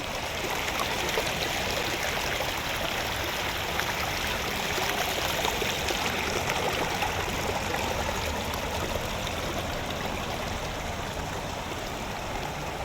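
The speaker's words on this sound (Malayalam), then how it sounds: "ആർട്ടിഫിഷ്യലായിട്ട് ചെയ്തേക്കണ വെള്ളച്ചാട്ടമാണ് ഈ പോണത്." An artificial waterfall pours and splashes steadily in a constant, even rush close by, with no voices.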